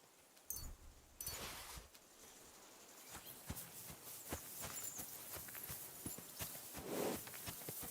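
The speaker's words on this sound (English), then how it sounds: "that's a fancy braided horse there" Hooves of a horse walking in a video game, a steady clip-clop of repeated thuds that stays fairly close and even, with faint insect and bird ambience behind and no talking.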